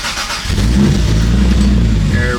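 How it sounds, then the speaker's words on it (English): A Toyota Supra fitted with an ECUMaster engine management system cranks and fires, then settles into a loud, steady idle rumble close by. "I'm gonna go ahead and start the car."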